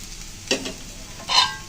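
A vegetable bhaji with green chillies sizzles softly in a pan while it gets two quick scraping stirs, close and brief, with no voices.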